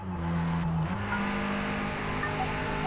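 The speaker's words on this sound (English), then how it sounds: "it had that braking sound telling me to decelerate" In the racing game Forza Motorsport, an audio cue signals braking before a sharp corner, heard over the steady drone of a race car engine with a gliding tone shift near the start.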